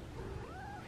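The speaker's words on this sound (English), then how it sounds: "this is my cat. She's in heat right now, so she's very whiny." A female cat in heat gives a drawn-out, rising and falling whiny meow, one long call heard faintly and alone.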